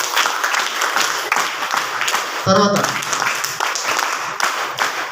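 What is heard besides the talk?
applause, audience clapping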